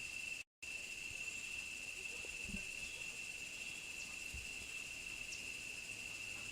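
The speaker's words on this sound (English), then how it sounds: "The sound you hear is the cicadas that are in full swing, given that it's the middle of the dry season" Cicadas in full swing during the middle of the dry season produce a steady, high, piercing drone that runs unbroken except for a brief dropout, faint and distant, with no talk.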